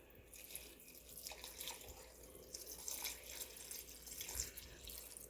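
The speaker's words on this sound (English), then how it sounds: "Now I'm going to take my spring water and I'm going to pour it" Spring water pouring slowly into a large pan over rose petals, a steady, close splashing stream that rises and falls in intensity with no voices.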